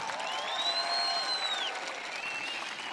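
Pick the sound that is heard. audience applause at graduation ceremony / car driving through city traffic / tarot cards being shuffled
audience applause at graduation ceremony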